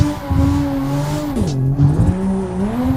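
A video game car engine revs high in third gear while cornering, its pitch climbing, dipping briefly at about midway, then rising again, loud and continuous with faint tire squeal and no talking.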